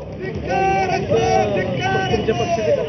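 Outside the BJP office, a crowd of party workers chants slogans in loud, repeated rhythmic shouts, voices overlapping in a dense, close babble that stays steady throughout.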